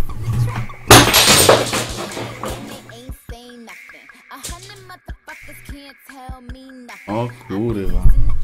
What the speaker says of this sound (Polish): To niezła rozbita świeczka.